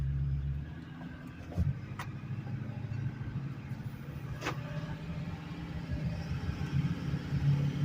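A 2010 Ford F-350 Crew Cab 4x4 with a 6.4 Powerstroke diesel cruising on the road, a low steady engine and road rumble heard from inside the cab, with a few faint clicks.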